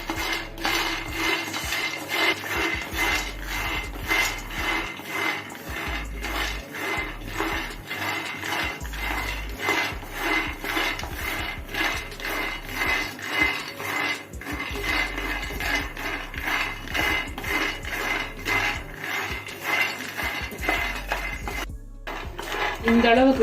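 Peanuts, about 250 grams, stirred while lightly dry-roasting in a pan until crisp, making a steady stream of close, dense rattling and scraping clatter throughout with no pauses.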